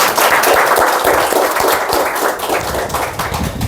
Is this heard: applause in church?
yes